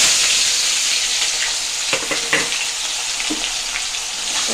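Onions sizzle and fry in hot oil with cumin seeds and dried red chillies, a steady loud crackle with a few stirring scrapes partway through and no voices.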